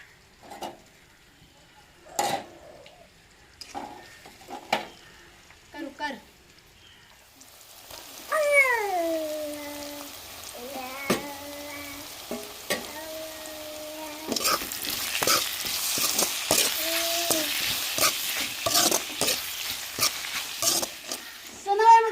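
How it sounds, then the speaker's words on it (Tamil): Onions, tomatoes and green chillies fry in a pan, a soft sizzle that rises and grows denser in the second half, broken by stirring clinks and scrapes, with a few short voiced sounds in between. "வெங்காயம் தக்காளி பச்சை மிளகாலாம் நல்லா வதங்கி வரட்டுங்க"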